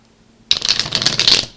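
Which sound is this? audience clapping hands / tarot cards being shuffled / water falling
tarot cards being shuffled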